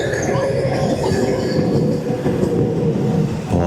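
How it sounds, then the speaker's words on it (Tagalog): A train passes close by in Kyoto, a loud continuous rumble with rhythmic wheel clatter and faint metallic squeal, staying steady throughout. "Oh ha, may dadaan na tren."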